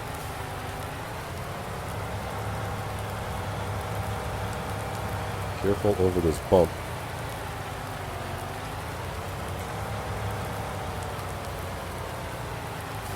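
Continuous hiss of rain drumming on a barn roof in Farm Simulator 19, under a low engine hum, with a person speaking briefly midway and a short rattling burst.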